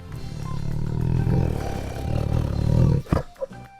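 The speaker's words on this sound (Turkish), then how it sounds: "Bu bir kaplan." A tiger gives a deep, rumbling roar that swells over several seconds, loud and near, and ends in a couple of sharp coughing bursts.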